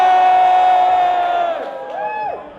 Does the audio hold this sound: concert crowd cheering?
yes